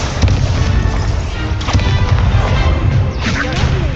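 A Confringo blasting spell explodes in Hogwarts Legacy amid loud, dense spell combat, with heavy booms and whipping whooshes layered over continuous rumbling game noise.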